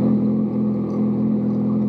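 A Kawasaki ZX6R motorcycle engine drones steadily and loudly, a constant low hum heard up close while riding, with no breaks.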